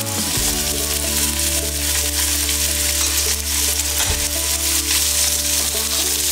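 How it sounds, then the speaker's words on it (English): Sausage browning in a hot skillet with olive oil gives a loud, steady sizzle and crackle that runs throughout, with occasional soft knocks as the meat shifts in the pan. "The skillet is hot, and we're going to start with the meat"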